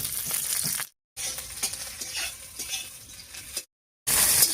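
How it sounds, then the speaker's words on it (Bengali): Whole garlic cloves and slit green chillies sizzle in hot oil in a pan, a steady crackling hiss with faint stirring scrapes, broken by two brief silent gaps. "এবারে এই তেলের উপরে দিয়ে দিচ্ছি গোটা রসুন আর কাঁচা লঙ্কা"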